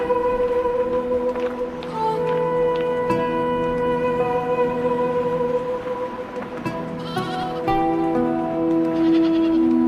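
A goat bleats repeatedly in a desert setting, its wavering calls rising over a steady background hum with no talking.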